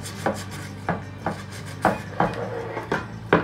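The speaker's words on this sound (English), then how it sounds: "I'm just kind of smoothing out the cut." A cut wooden edge being smoothed and rounded by hand, a series of about eight rough rasping strokes at an uneven rhythm, close and moderately quiet, with no talking.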